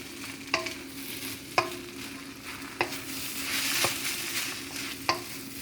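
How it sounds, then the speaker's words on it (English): Soy sauce and shrimp noodles sizzle and hiss steadily in a hot wok, with about five sharp scraping clanks of a spatula tossing them at a regular pace. "Did you hear that sound? It's the wok."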